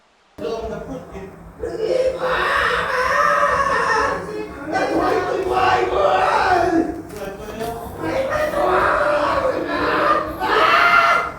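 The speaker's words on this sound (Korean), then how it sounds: "지난 6월 말 시설 내부에서 비명 소리가 터져 나왔습니다" Voices scream and cry out inside a welfare facility in Wonju for disabled and homeless residents, secretly recorded from outside a room door. The loud, strained shouting runs almost continuously for about eleven seconds.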